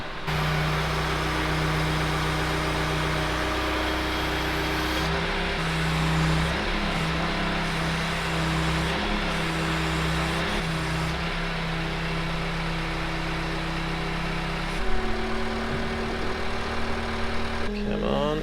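A Manitou telehandler engine drones at a steady idle-to-medium pitch on a farm while the machine is spun round and backed up, a continuous close rumble with small shifts in load.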